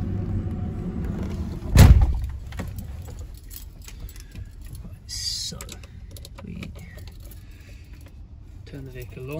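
A 2010 Renault Master low-loader Luton van, due a service, cranks and fires with a loud burst near the start, then settles into a steady low idle rumble with faint clicks and rattles.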